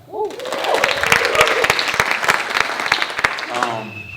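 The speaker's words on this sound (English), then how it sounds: "Can we clap?" Comedy club audience at a Halloween show clapping together for a few seconds, a dense burst of applause that rises quickly and tapers off, with some voices in the room.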